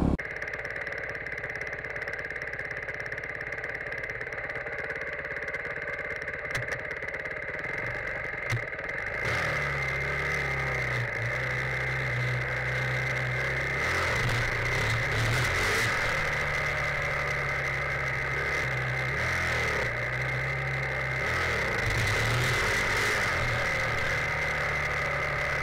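Motorcycle engine running during a wheelie, a steady idle that steps up into a louder, held drone partway through, continuous and fairly close with no speech.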